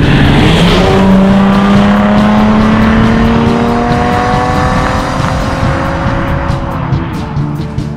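A Mercedes SL350 with a naturally aspirated 3.5-litre V6 accelerates hard, the engine note rising steadily through the revs, loud and close with road and tyre noise underneath, no talk.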